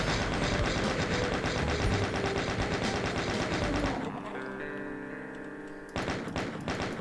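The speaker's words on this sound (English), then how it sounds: "tap your chain gun fire button, you'll be able to kill the enemies over there easily" Rapid chain gun fire in the Doom Zero game, Booster Hub map, loud and dense for about four seconds, then a droning hum with tones before another burst of shots near the end.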